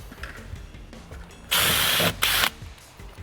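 A power drill works on a caravan front during a renovation, with two short, loud bursts of whirring, the second briefly broken off, set against quieter handling noises.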